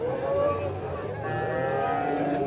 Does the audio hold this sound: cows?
yes